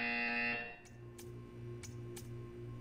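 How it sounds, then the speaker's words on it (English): A loud, steady electronic buzzer from the Portal 2 test chamber sounds for about half a second and stops abruptly, followed by quiet mechanical ticks and a low hum. "You will hear a buzzer."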